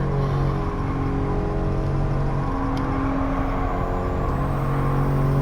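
A stock Honda S660 in a racing video game holds a steady engine drone and whir on track, the revs running fairly constant and loud throughout with no voices.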